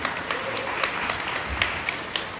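Guests at a Korean hotel wedding ceremony without an officiant clap together, producing a close, dense burst of applause that stays steady and full throughout.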